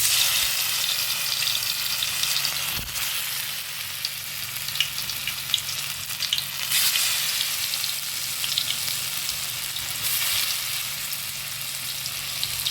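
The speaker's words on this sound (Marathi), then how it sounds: "अशा प्रकारे आपण सगळी कट करून घेऊया आणि फ्राय करूया" Sliced alu vadi, a colocasia leaf roll, frying in hot oil with a dense, steady sizzle and crackle that stays loud and continuous, rising in brief bursts.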